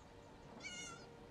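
In The Elder Scrolls Online game, a cat gives a single short meow midway through. It sits quietly in a faint background of game ambience.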